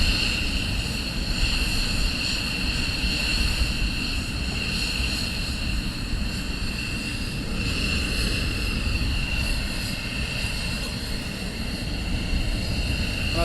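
Military jets taxiing at RAF Lakenheath during surge operations: a loud, continuous engine whine with steady high tones over a deep rumble, close and unbroken.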